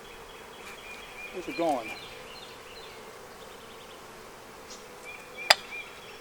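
Young honey bees hum around an open red Flowhive in a low, steady drone, with a brief spoken remark partway through and a sharp click near the end.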